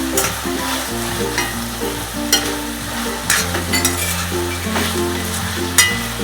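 Mixed vegetables fry and sizzle steadily in a pan for mint rice, with occasional stirring scrapes, under a continuous tonal background hum.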